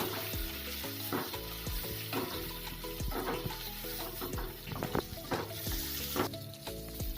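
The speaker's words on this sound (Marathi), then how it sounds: "तेलावर सर्व आपल्याला जी चटणी बनवलेली आहे ती मस्त अशी फ्राय करून घ्यायची आहे" Chutney ingredients fry in oil with a busy crackling sizzle, and a spoon knocks and scrapes against the pan now and then. The frying is close and steady, with no voices.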